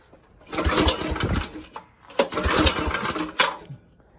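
Predator 301cc small engine being pulled to start, with two long rattling recoil pulls and a shorter third, close and loud, the engine not catching.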